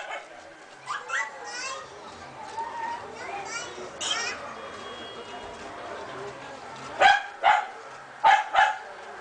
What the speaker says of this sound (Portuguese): Olha o cachorro reclamando.